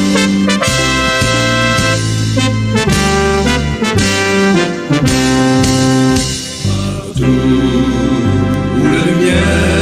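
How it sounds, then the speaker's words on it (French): Rotary club song played at an education conference, sustained melodic music with steady chords and rhythm filling the whole stretch at a loud, even level, no speech over it. "c'est le chant du Rotary."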